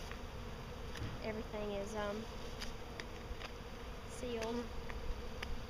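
Honey bees buzzing around a beehive during a hive check, a steady close drone with individual bees whining past, while a person speaks briefly over the hum.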